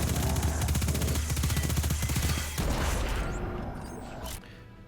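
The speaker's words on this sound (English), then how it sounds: "SMGs are a rapid-fire, close-range weapons that doesn't need critical hits to do good damage." Submachine gun in the Destiny video game firing rapid close-range bursts, a dense loud rattle that cuts off partway and is followed by a fading mechanical tail.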